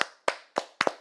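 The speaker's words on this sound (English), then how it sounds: "You can clap it up for my dog." A few quick hand claps, four sharp close strikes with the last one doubled, spaced roughly evenly and loud, with no voices.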